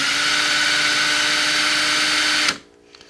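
An engine valve for a 400cid small-block Chevy build whirs steadily as it spins in a power drill, a loud continuous buzz that cuts off abruptly near the end, followed by a couple of faint clicks.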